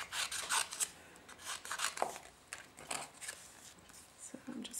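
Scissors trimming around an oval paper sentiment for a Christmas card project, giving soft, quick rasping snips and paper rubs in short bursts, close and fairly quiet.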